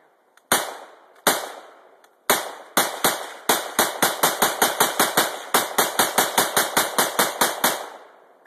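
Rapid bursts of rifle fire from an AR-15 fitted with a slide fire stock: a few spaced single shots, then long fast strings of loud, sharp reports with ringing decay, close and with no talk.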